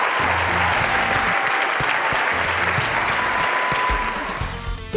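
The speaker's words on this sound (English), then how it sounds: "I want to take a moment to give a round of applause to all the great teachers in this room" Sustained audience applause for teachers at a South Carolina Teacher of the Year event, a dense steady roar of many hands clapping that holds strong for about four seconds before thinning slightly at the end.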